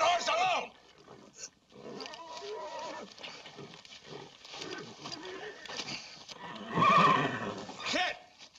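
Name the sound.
horse neighing in a western film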